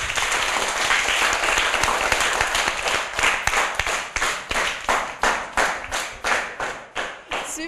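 A small audience at a book presentation applauds loudly, a dense burst of clapping that settles into a steady, rhythmic clap near the end.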